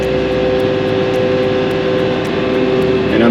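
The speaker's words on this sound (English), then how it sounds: "Our bed is dumping." The bed of a Bell B30E articulated dump truck raises and dumps with its engine revving on its own, a loud steady mechanical drone with a strong humming tone and a slight surge at the end.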